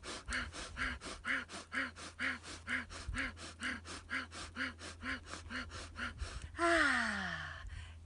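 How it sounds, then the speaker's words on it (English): Breath of fire breathing exercise: a rapid, even series of about twenty forceful nasal breaths at close range, pulsing rhythmically before ending in a longer sighing exhale. "And you can breathe breath of fire."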